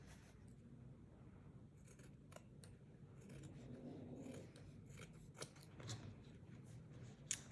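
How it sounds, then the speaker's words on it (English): Scissors snip through fabric, trimming the seams off a pair of pants under repair; quiet, close, repeated crisp cuts over a low background hum, with no talking. "I have more than enough fabric here, so I can cut those seams off"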